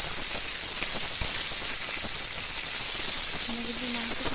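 Chicken pieces being sautéed with spices give off a loud, constant, even sizzle close by, with a faint voice briefly beneath it toward the end.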